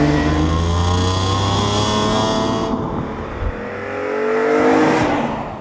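A 2003 BMW M3 CSL with a naturally aspirated straight six revs loudly and close, its howling tone climbing steadily, easing briefly, then rising again, with no talk over it.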